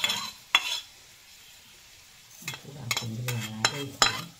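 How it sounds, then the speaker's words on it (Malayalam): Fennel seeds are dry-heated in a pan on a home stove, giving soft intermittent scraping and rustling as they are stirred, with short clinks of a utensil against the pan, close and without talk. "പെരുംജീരകം ഒന്ന് ചൂടാക്കുന്നുണ്ട്"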